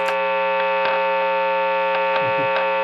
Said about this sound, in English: just that much buzz from the single coil bridge